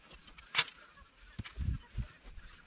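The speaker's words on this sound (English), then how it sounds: "we've got the magpie geese helping themselves" Several loud magpie goose honks, a sharp call followed by a cluster of deeper honks, close by and outdoors in Darwin with light background noise.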